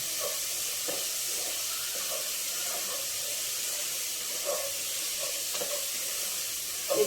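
Food fries in a pan for pudina rice, giving a steady, bright sizzle that holds evenly throughout with faint crackles and pops, and no voices.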